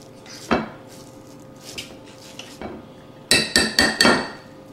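Metal utensil scraping and knocking against a bowl while pulling cooked spaghetti squash into stringy strands, a few scattered clinks and then a quick series of four sharp scrapes, close and clear.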